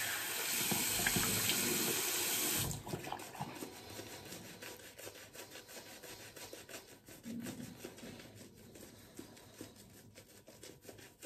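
A tap runs into a sink for about two and a half seconds as a steady close rush, then shuts off. Soft rubbing and handling sounds follow in a quiet room during a shave.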